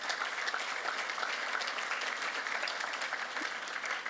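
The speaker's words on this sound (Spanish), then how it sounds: "Dale un fuerte aplauso a Jesús." A church congregation breaks into steady, full applause, a dense wash of many hands clapping at once that holds evenly for a few seconds without speech over it.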